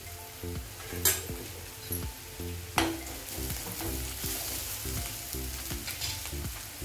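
Crushed chilli, garlic and ginger paste with onion going into a hot oiled pan, a steady close sizzle with a few sharp crackles and stirring scrapes throughout.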